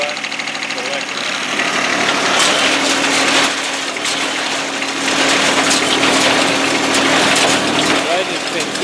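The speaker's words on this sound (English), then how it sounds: "This is how you start the PTO on this tractor." A new tractor runs with its PTO engaged, a loud, steady engine drone with a constant mechanical hum and rattling vibration, close up, while someone talks over it.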